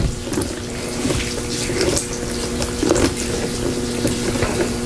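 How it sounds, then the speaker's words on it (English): Water pours steadily into homemade seed starting soil mix, a continuous running trickle under a low steady hum, with small bursts of splashing throughout. "I need to add some more water to this here."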